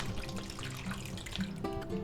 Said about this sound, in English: Now all we have to do is add our marinade to the bag. Just pour that right in there.